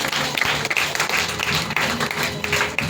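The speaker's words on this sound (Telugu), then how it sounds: "గట్టిగా చప్పట్లు కొడదామా?" A church congregation claps loudly and steadily for about three seconds, dense and sustained applause filling the room.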